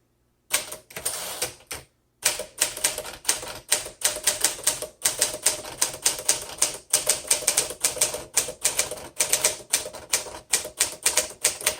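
A 1953 Smith Corona Sterling 5A manual typewriter clatters in quick, even keystrokes close up, with a brief pause early on; the end-of-line bell is too faint to pick out.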